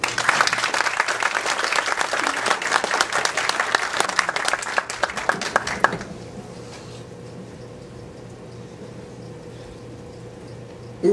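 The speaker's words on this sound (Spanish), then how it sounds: "Demos un fuerte aplauso" Audience applause at an evening civic event in Santo Domingo, Dominican Republic: dense, sustained clapping for about six seconds that cuts off abruptly, leaving a quiet room hum.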